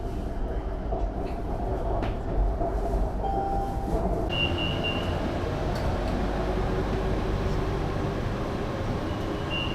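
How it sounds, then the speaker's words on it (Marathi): A Bangkok BTS Skytrain metro train runs on the Sukhumvit line, heard from inside the car as a loud, steady rumble and rail roar with brief high squeals and clicks throughout. "तर स्वागत आहे तुमचं बँकॉक BTS ट्रेनमध्ये"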